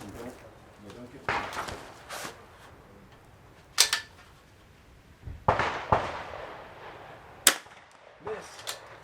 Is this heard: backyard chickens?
no